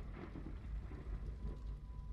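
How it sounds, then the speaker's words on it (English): A thunderstorm in an indie horror video game set in Bikini Bottom: low rumbling thunder under a steady hiss of rain, fairly faint and continuous, with no talk. "Was that thunder? It's thundering in the freaking ocean"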